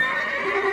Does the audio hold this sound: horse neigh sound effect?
yes